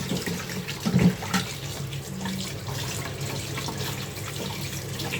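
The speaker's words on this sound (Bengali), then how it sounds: "তো মাছটা একটু ভালোভাবে ধুয়ে পরিষ্কার করে নিচ্ছি এখন।" A rohu fish head is washed by hand under running water, a steady close splashing and trickling stream with a few louder handling splashes near the start.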